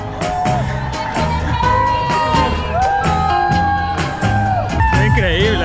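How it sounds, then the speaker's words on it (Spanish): Marathon spectators in New York cheer and shout along the course, a dense, loud wall of crowd noise with whoops and yells mixed with music and voices nearby. "es mucho más fácil correr con tanta gente gritando tu nombre"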